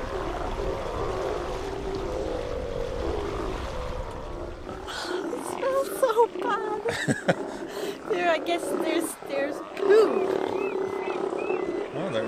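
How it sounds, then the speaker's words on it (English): A large colony of about a hundred Steller sea lions in the Gulf of Alaska roars and barks continuously, heard from a sailboat with a steady wind or engine rumble underneath and voices talking nearby. "We found a massive sea lion colony, so we just had to make a detour and have a look at it."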